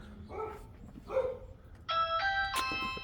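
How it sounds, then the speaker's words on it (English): A two-tone doorbell chime rings, ding then dong, ringing out clearly after a few short dog barks and yips. "Did you ring the doorbell?"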